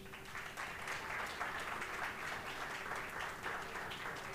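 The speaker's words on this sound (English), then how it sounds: "another round of applause for them." Audience at a graduation ceremony applauding, a steady wash of many hands clapping at moderate distance, fairly faint, with a faint hum underneath and no one speaking over it.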